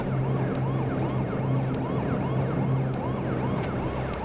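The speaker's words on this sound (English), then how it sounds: "I'm so tired of listening to that siren now." An ambulance siren in a flight simulator wails continuously in a fast, repeating up-and-down pattern over a steady Q400 engine drone, loud and close.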